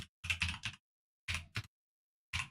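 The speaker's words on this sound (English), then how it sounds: "ASMR moment with my mechanical keyboard." Bursts of clacky typing on a mechanical keyboard, three short clusters of rapid key presses separated by silent pauses, close and crisp in an otherwise quiet room.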